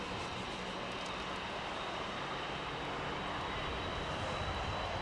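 Jet engines on a Boeing 747-8 spooling up at Los Angeles International Airport, a steady, loud, broadband roar that holds continuously throughout, with no voices audible.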